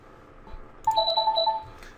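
An inbound call rings in the PureCloud communication software, a short run of faint electronic tonal beeps starting partway through over a quiet background.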